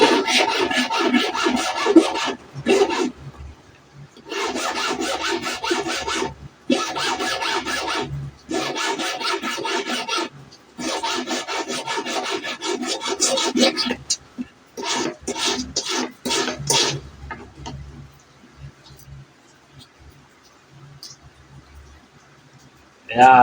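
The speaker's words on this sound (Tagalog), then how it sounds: "kaya kikil na gamitin natin." A hand file rasps against a part for a detachable tiksay dart in long runs of quick back-and-forth strokes, close and fairly loud, with short pauses between bursts before it trails off into quiet.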